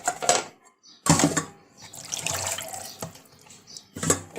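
Sarputi fish get rinsed in water, with splashing and sloshing in bursts as the fish are handled and washed, close and fairly loud with brief pauses between scoops.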